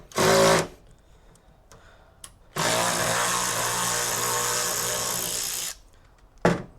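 A power driver sinks self-tapping screws into a truck tailgate panel in loud, close bursts of whirring: one short burst, a pause with small clicks, a long sustained run, then another brief burst.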